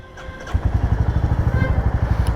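A Royal Enfield Classic 350 motorcycle engine cranks briefly on the electric starter and then catches, settling into a loud, rapid, regular thumping idle.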